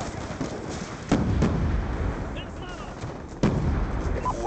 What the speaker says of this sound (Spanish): Disparo efectuado.